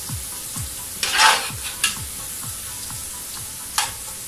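Onions frying to light golden brown in a pan for a mixed vegetable sabzi, a steady close sizzle with a few scraping stirs and clinks of the spoon against the pan.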